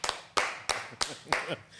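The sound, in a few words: round of applause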